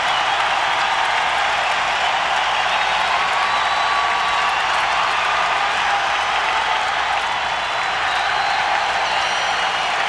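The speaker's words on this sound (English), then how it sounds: "Listen to this crowd." A hockey arena crowd at a Phantoms versus Checkers 25th anniversary night roars and applauds in a dense, loud, continuous wash of cheering and clapping that fills the whole stretch.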